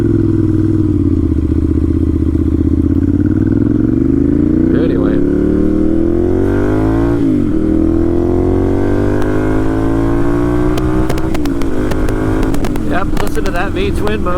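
A 2012 Ducati 796 Monster V-twin engine rumbles loud and close, its pitch climbing in repeated revs, with some clatter toward the end.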